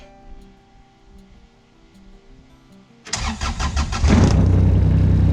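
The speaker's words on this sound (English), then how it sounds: "Let's see if the Kubota's gonna start first try" A Kubota side-by-side engine cranks and fires on a cold morning after a stretch of quiet, catching quickly and settling into a loud, steady idle close by.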